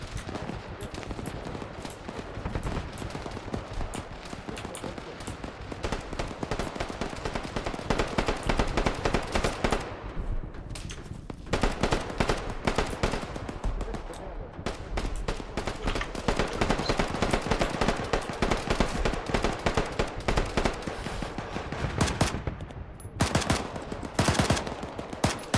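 Dense, sustained automatic gunfire in Arma 3 urban combat, a Serbian operation, with overlapping bursts and rattling shots filling the scene loudly almost without pause, briefly thinning a few times.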